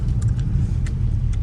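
A car rolls past on a snowy road toward Kupwara, a loud, steady low rumble that holds throughout.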